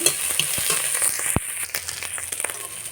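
Dried shrimp frying in a pan with salt and turmeric, a loud close sizzle broken by sharp crackles and a few spatula knocks and scrapes.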